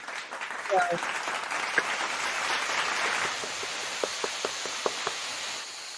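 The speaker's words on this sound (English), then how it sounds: "let's have a nice round of virtual applause for our boy Graham." Applause plays during an online music round table, a continuous hissy wash of clapping with a few sharper individual claps near the end, with faint voices underneath.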